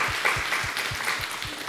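Applause in a church with a steady pulse of rhythmic clapping, roughly four beats a second, heard at moderate volume in a reverberant room.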